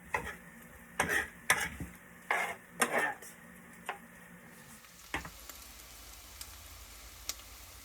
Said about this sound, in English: add it to the pan to mix in with the green beans